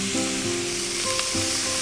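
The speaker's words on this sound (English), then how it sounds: "I cook the meat in a generous amount of delicious mountain butter." Pork belly searing over high heat in a generous amount of mountain butter in a pan, a loud steady sizzle and spatter throughout with faint stirring scrapes, close up and with no voices.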